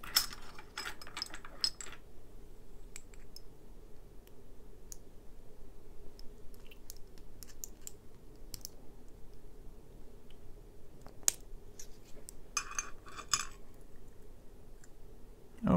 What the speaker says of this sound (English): Okay, now a key and a follower should get this lock apart.